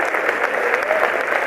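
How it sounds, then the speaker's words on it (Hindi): Loud, dense applause from a live audience at a Hindi comic poetry recital on an Agrawal community stage, steady and continuous clapping filling the whole moment with a slight crowd murmur. "जोरदार एक बार तालियां बजाए साहब।"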